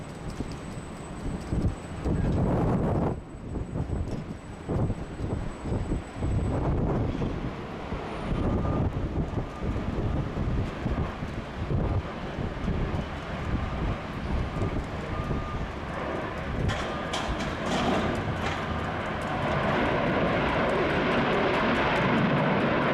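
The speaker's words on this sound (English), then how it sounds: "Next arrival, a Virgin Australia 737-800 short final," Virgin Australia Boeing 737-800 on short final and landing at Sydney Airport in heavy rain: a steady loud engine roar mixed with constant rain and wind noise, swelling slightly toward the end.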